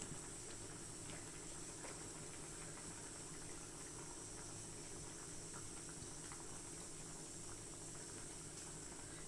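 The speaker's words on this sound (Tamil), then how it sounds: "இப்போ பார்த்தீங்கன்னா தேங்காய் பால் ஊற்றி கொதிக்க ஆரம்பிச்சிருச்சு" Fish curry made with coconut milk comes to a boil in a wide pot. It gives a quiet, steady bubbling hiss that stays constant throughout, with no voices.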